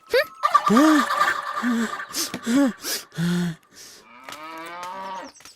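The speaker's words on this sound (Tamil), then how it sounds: "இது பசுமாடு" A cow moos several times in quick succession, loud and close, with short breathy gaps between the calls and a rising, drawn-out final moo.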